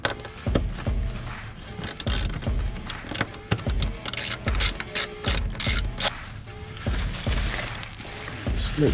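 A ratchet wrench loosens 10 mm heat shield bolts under an E36 BMW Z3, with repeated close bursts of sharp pawl clicking between short pauses.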